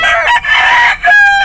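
A mestizo gamecock crows loudly and close, one full harsh cock-a-doodle-doo broken by two short breaths, bright and strident with no other sounds.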